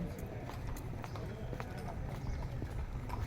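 Horse hooves clip-clop steadily on hard ground at Matheran, several riding horses moving together, with a low rumble of voices in the background.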